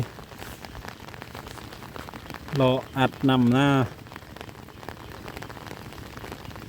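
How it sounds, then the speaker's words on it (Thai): Steady rain patters on a surface throughout, with someone speaking briefly near the middle over the continuous hiss. "ยังบ่เศร้าฝน"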